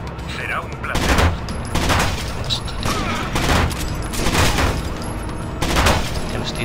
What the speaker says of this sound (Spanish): Ya lo estoy disparando